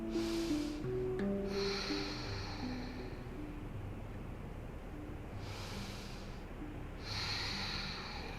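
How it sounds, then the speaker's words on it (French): Slow, steady breathing through the nose during a vinyasa yoga low lunge, soft and close, with a few longer audible exhales standing out over a faint background hum. "On retrouve sa respiration fluide et régulière."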